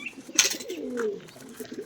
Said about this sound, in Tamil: இது வந்து காட்டுப்புறா நாங்கள் பிடிச்சது வளர்ப்போம்